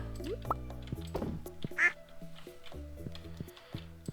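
Ducks on a Stardew Valley farm quack in a coop, a few clear game quacks standing out among other short farm sound effects and jingles, with no talking.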